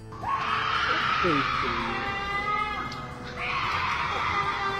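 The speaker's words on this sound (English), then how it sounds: "Sounds like a screech that goes right through your ears and sticks into your heart" A piercing, drawn-out screech wails loudly for several seconds, pausing briefly before rising again, with a lower cry wavering beneath it, picked up by a security camera.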